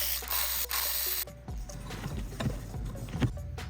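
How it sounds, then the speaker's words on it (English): Ratchet working on the belt tensioner of a BMW E60 M5 with the S85 engine, attached to the oil pan, making quick clicking pawl sounds in short bursts close up, with handling clatter in between. "But now we have to remove the belt tensioner."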